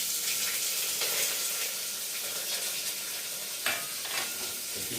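Chopped onion fries in a pan while khichdi is being cooked, giving a steady close sizzle with occasional stirring scrapes and a faint watery splash.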